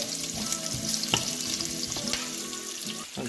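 Onions and garlic sizzle softly in oil in a pan with occasional clinks and scrapes of stirring, fairly quiet and steady.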